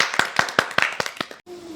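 Hands clapping in a steady rhythm of about eight sharp, close claps during an online Sunday school service, ending abruptly before a brief hum.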